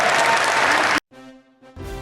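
Loud, dense applause from an audience at an Atlanta Comic Con panel, which cuts off abruptly partway through and gives way to quiet tonal sound.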